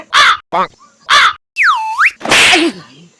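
A voice imitates a crow's caw in a Gujarati street comedy scene about selling mangoes, giving several sharp, nasal caws in quick bursts, one drawn-out swooping call among them, loud and close with no other sound.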